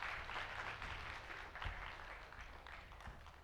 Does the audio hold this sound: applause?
yes